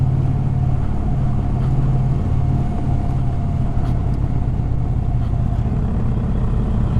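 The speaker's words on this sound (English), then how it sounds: "Gonna ride around that curve at 5th gear" An Indian Challenger motorcycle holds steady in fifth gear through a curve, its engine a constant low, rumbling drone under heavy wind buffeting, with no change in pitch.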